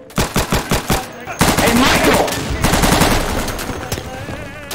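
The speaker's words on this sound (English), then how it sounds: "Who's shooting at me?" Rapid video game gunfire: a burst of evenly spaced shots up front, then a sustained, dense fusillade that stays loud and fades slightly toward the end, with no clear speech over it.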